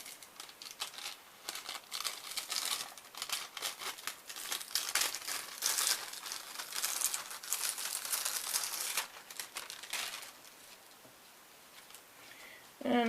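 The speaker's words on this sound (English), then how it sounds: "So let's peel back the foil." Foil peeled back from drying acrylic paint on a fabric craft card, giving a long run of close, crinkly tearing and crackling that lasts several seconds, then quietens, with a brief voice at the end.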